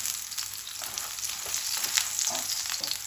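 A mooli paratha frying in oil on a pan, giving a continuous close sizzle with light crackles and occasional soft scraping throughout.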